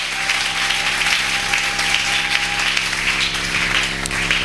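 Church congregation applauding together, a steady wash of clapping that fills the room without pause for several seconds.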